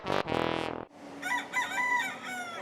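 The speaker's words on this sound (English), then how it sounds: "the chickens come here to the Woven Roots Community Garden to lay their eggs" Chickens and a rooster in a community garden: a loud, close rooster crow opens, then hens cluck and chatter in warbling bursts over a quiet outdoor background.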